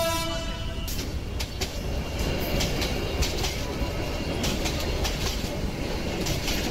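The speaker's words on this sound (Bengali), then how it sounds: "হর্ন বাজিয়ে ট্রেন চলতে শুরু করলো" A train starts moving right after its horn sounds: a brief tonal toot at the start gives way to loud, continuous rumbling with repeated clickety-clack wheel knocks, close and steady.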